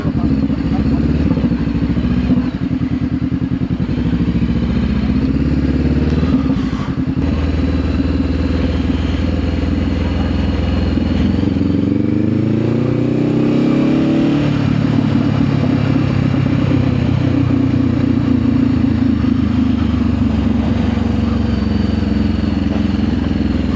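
Motorcycles of a local motorbike gang roar past near a small island reached by a wooden bridge, their engines loud and close, revving and rising in pitch as they pass, with a steady din and clatter throughout.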